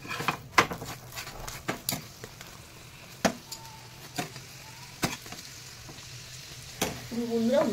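Gopi paratha cooking in a pan on a low flame: a gentle, continuous sizzle broken by scattered sharp taps and clicks, close and moderately loud, swelling slightly toward the end.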